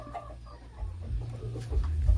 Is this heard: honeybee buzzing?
no